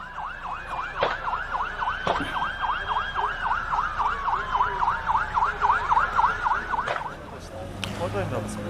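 A fire engine siren wails in a fast, repeating up-and-down yelp over steady traffic rumble, loud and close, then fades out.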